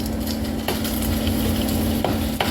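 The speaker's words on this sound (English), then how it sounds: "So I'm going to put the meatballs in." Meatballs go into a piping hot 12-inch skillet with a tablespoon of lard, a steady close sizzle broken by a few sharp clacks as they are placed.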